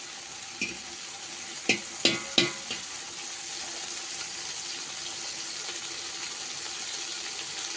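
Curry leaves frying in hot oil in a pan while cooking chicken biryani, giving a steady sizzle with a few sharp crackles and stirring clatters early on, close and without talk.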